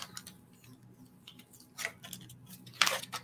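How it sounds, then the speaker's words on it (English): Paper masks peeled off a sheet of stamped images at a craft table give a couple of quiet, short crackling rips, with faint handling noise in between. "So now what you're going to do is you're going to peel your masks off."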